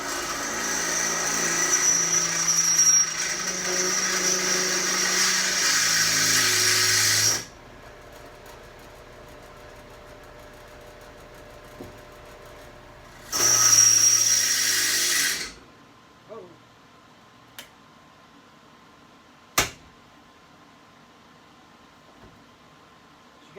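A power drill with a WD-40-lubricated bit bores through a broken Brinly yard cart: one loud whine for about seven seconds, a shorter burst later, then scattered clicks and knocks.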